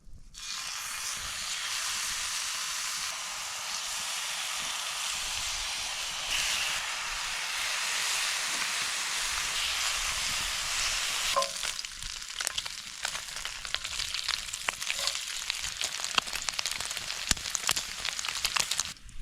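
Fatty meat hisses and sizzles loudly in a dry pan without oil at a camp in Sweden, a dense continuous frying roar that later breaks into crackling and popping, close and steady with no voices.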